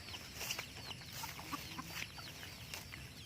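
Faint chickens clucking on a quiet farm, scattered short calls over a low background hiss and rumble.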